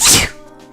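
A single loud, close sneeze bursts out sharply and fades within a fraction of a second, with no talking around it.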